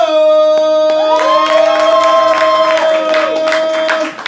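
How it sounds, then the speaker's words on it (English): Audience applause and cheering at a poetry slam in Orlando, Florida, with a steady wash of clapping under strong sustained tones, holding loud throughout and easing at the end. "Keep that applause going for your next performing poet, Wallow Jones."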